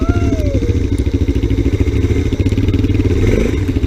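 A Honda XR 100 dirt bike rides through snow, its small single-cylinder engine buzzing close and loud with rhythmic pulsing and clattering, a brief voice cutting in near the start.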